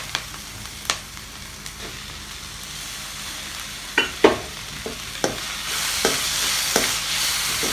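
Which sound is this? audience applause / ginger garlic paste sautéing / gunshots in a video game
ginger garlic paste sautéing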